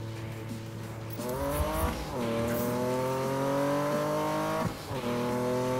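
Porsche race car in Need for Speed roaring steadily, its engine note rising and shifting through gears with a brief tire squeal partway through, loud and continuous with no talking.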